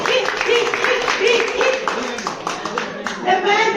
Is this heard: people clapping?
yes